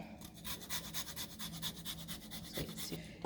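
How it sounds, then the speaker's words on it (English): A lemon is zested over chicken breast pieces with quick, rhythmic rasping strokes, close and faint, about a dozen scrapes in a row. "I'm going to also zest some of the lemon zest."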